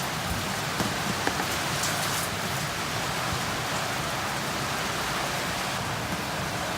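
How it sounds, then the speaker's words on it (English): Steady rain falls during Tropical Storm Alberto in Florida, a dense, even hiss of drops on surfaces with no pauses, moderately loud and continuous throughout, with no voices. "It was really windy and kept raining and raining and raining."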